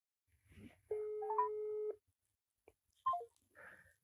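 A telephone gives a short electronic busy tone over a quiet line, lasting about a second, with faint clicks and sparse beeps around it.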